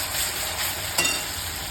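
Chutney is stirred into onions frying in a pan, giving a steady close sizzle with one brief scrape or clink near the middle, no talk heard.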